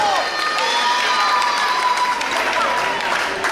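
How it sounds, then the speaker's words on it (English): A wrestling crowd at the Morgan Hills Event Center cheers and roars, a constant, loud wash of massed voices and shouts that fills the space without pause. "Listen to this crowd"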